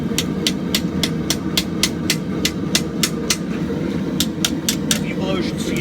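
Evenly spaced metallic hammer blows ring out while an axe bit is seated into a heated billet during forge welding for a Viking axe made from scrap, about a dozen sharp strikes over a steady roar of the forge fire.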